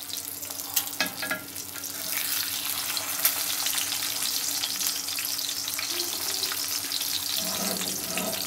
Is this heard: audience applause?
no